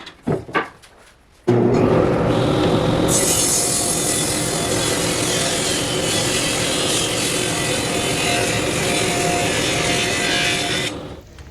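After a few light knocks, a power saw cuts wooden pieces down to about 1.5 inches wide for a wooden fly rod tube, a loud, sustained whining rip lasting close to ten seconds before cutting off.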